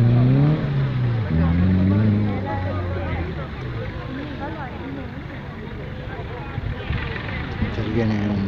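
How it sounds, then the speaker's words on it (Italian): A Landini 5000 tractor works an off-road Defender track, pulling out a stuck vehicle. Its loud, steady engine drone shifts in pitch as it pulls, over faint background chatter. "Viene un trattore Landini 5000"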